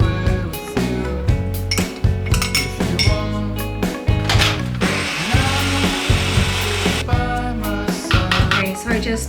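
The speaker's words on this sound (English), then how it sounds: "I'm gonna go ahead and make a little bit of a rub in the food processor" A food processor blends a rub for leg of lamb in rhythmic, loud bursts of whirring and chopping, with a sustained spin in the middle.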